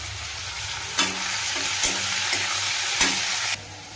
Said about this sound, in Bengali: পেঁয়াজটা একটু ভাজা ভাজা হয়ে গেলে